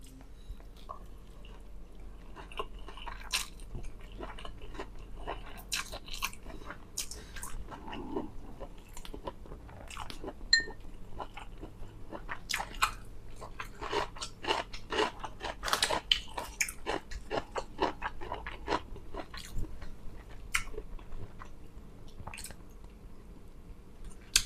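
Stir-fried Thai rice noodles (khanom jeen) being eaten up close: soft, quiet, repeated chewing and moist crunching bites over a faint steady background, with no speech.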